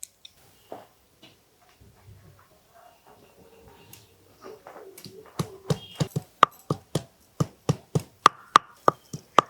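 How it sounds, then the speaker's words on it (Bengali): Potato peels are crushed with a stone pestle on a flat grinding slab (shil-nora), starting with scattered soft taps and settling into a steady run of sharp, close, evenly spaced pounding strikes. "এবার শিলনোড়াতে থেতলে নিই"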